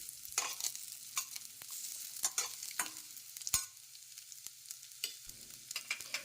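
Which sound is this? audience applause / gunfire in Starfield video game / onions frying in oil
onions frying in oil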